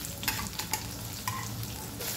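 Chopped onion frying in oil with cumin in a pan for chicken pulao, a steady close sizzle over a few seconds with several short scraping strokes of a spoon as it is stirred, no voice.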